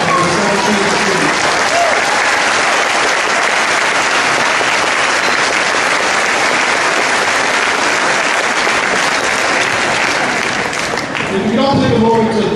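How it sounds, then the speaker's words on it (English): A large audience at a high school graduation ceremony applauds in a loud, dense, sustained wave of clapping and some cheering, continuing for several seconds before tapering slightly near the end. "Another round of applause for the Southern students."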